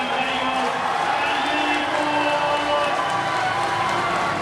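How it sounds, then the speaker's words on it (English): A speedway crowd cheers and roars in a steady, loud, continuous wash of noise from a stadium after a race heat, with a commentator talking over it. "The crowd going bananas for Vinnie Foord."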